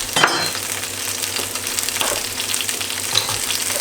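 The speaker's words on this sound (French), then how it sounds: "Donc j'ajoute l'oignon aussi. Je le fais légèrement doré." Garlic and onion fry in a pan, a steady broadband sizzle with occasional stirring clicks and scrapes, close and moderately loud with no talking.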